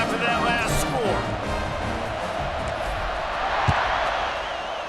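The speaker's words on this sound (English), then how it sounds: "this crowd is buzzing after that last score." A football stadium crowd in a video game buzzes with a loud, steady roar after a score, while a commentator's voice talks over the din and a sharp thump lands near the end.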